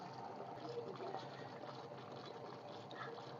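Nine litres of water pour into a watering can to mix a fertilizer solution, a steady, quiet gushing fill that runs continuously, close by and without talking.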